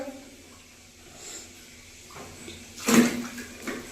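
Water splashes over a child's head during a bath: one brief, close gush near the end of a quiet stretch, with a shorter splash after it and a voice speaking faintly.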